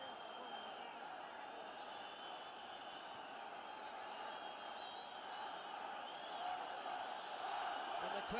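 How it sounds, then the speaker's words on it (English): A fight-night crowd at ACA 105 in Almaty, Kazakhstan, roars in a steady, distant wash of cheering that builds slightly louder toward the end. "And the crowd here is on his feet"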